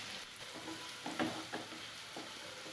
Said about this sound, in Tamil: வெங்காயம் நல்லா ஆயிலில் வதங்கட்டும்